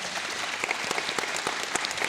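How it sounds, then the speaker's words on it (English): An audience at a 2022 Astoria candidate forum claps for the candidates: a steady, dense round of applause filling the room with sharp hand claps throughout, no voices over it. "let's give all these candidates a round of applause"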